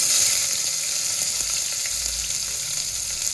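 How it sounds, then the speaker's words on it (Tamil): Green chillies and small shallots sizzle steadily in a pan while cooking a stingray fish curry, a dense continuous hiss with a few faint stirring clicks and no talk. "இருபது பச்சை மிளகா சின்ன வெங்காயம் எடுத்து வச்சுருக்கோம் அதை எடுத்து போட்டுக்குவோம்"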